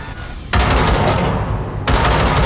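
Two loud single rifle shots, each with a sharp onset and a sustained blast, spaced about a second apart during weapon calibration in Cyberpunk 2077.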